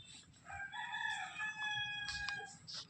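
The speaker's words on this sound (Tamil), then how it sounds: "கோழி கத்துது, கோழியா சேவலா" A rooster crows once in a drawn-out, wavering call, moderately distant and faint, at a spice garden in Bali, with low outdoor background noise around it.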